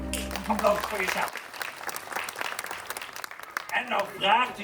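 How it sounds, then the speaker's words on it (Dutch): An audience at a wolf-themed culinary theater show at the Efteling Fairytale Tree Theater claps for itself, a broad wash of applause with voices talking over it. "Applaus voor jezelf."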